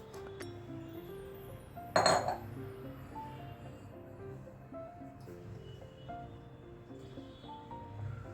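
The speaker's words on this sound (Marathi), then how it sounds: "आता हा कोबी आपण एका खोलगट भांड्यात काढून घेऊयात." Grated cabbage being moved into a deep bowl, with a sharp clink of utensil on the vessel near the start and softer scraping and rustling afterward, close and fairly quiet.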